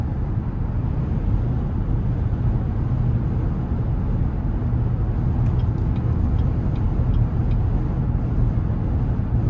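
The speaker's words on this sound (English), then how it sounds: "Wind noise, you can kind of hear just a tad because this is a higher roof vehicle" Constant road and wind roar inside a 2017 Cadillac Escalade Platinum 6.2 while driving, a broad, even rush with faint brief ticks partway through and no voices.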